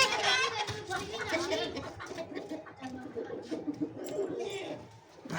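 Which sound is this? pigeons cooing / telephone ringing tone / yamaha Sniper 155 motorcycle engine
pigeons cooing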